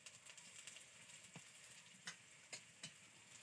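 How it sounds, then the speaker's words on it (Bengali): Gram-flour fritters (chop) fry in hot oil with a soft, continuous close sizzle, broken by a few sharp crackles and taps, quiet overall with no talking. "তো এরকম করে ভেজে নিতে হবে"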